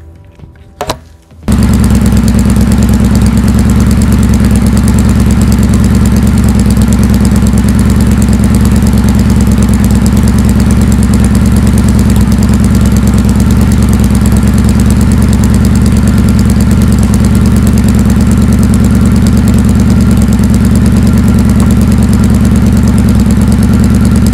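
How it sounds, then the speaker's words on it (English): A motorcycle engine cranks briefly, catches, and settles into a loud, steady, close idle with an even low throbbing rumble that continues throughout. "I'm actually going to start the bike up here"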